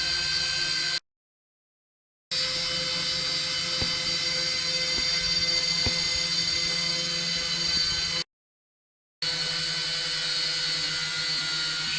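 Syma X5C quadcopter motors whirring steadily during a battery test, a continuous high buzzing drone broken by two brief silent gaps, with no talking.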